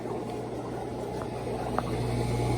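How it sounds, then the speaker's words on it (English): An aquarium air pump bubbling water in a guppy tank: steady, low gurgling bubbles with a constant pump hum underneath, close and continuous, with no one speaking. "that's a lot of bubbling"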